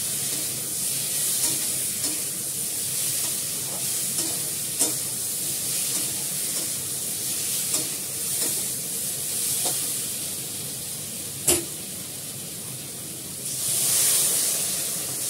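Vegetables with oil and spices fry in a pan, giving a steady close sizzle and hiss throughout, with occasional stirring clinks and scrapes and a louder burst of spattering near the end.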